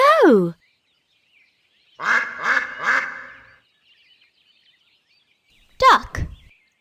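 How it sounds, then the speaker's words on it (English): A duck quacks in a series of loud, nasal honking calls, with a burst at the start, three rapid quacks in the middle and another call near the end. "Duck."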